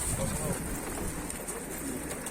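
Tumbler pigeons coo at their coop, a steady low murmur of calls running through the whole stretch with some background noise.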